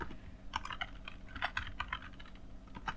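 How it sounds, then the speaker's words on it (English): Computer keyboard typing during Python programming, a run of irregular quick key clicks in small bursts, close and moderately quiet, with no talk over it. "It's hard typing and speaking at the same time."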